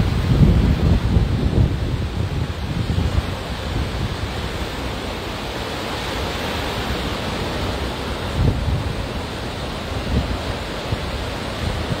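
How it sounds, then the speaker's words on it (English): Ocean surf rolls in at Hastings, a broad continuous wash of waves mixed with gusting wind rumbling on the microphone, steady and fairly loud, with no voices. "20 seconds more of this beautiful ocean"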